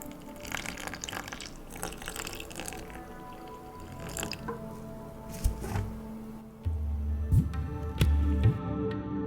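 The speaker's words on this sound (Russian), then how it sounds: "Смешиваю крошку с водой." Soap crumbs being mixed with water by hand into a putty-like mass, soft wet squishing and dripping with occasional thumps, close and quiet, with low music underneath.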